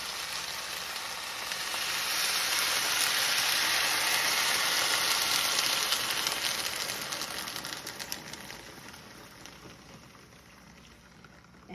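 Coconut curry lentils bubble and sizzle vigorously in a pot, a dense crackling hiss that swells, holds steady, then gradually dies down.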